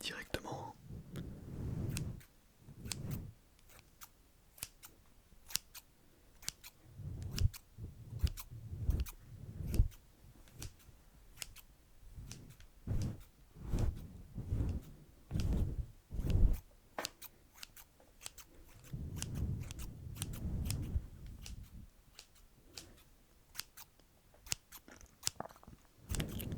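Close, crisp snips of scissors cutting hair in a luxury salon roleplay, repeated in quick irregular bursts with soft whispering between them.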